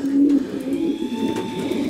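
Racing pigeons coo inside a pigeon loft, a close, throaty rolling call that rises and falls over about two seconds.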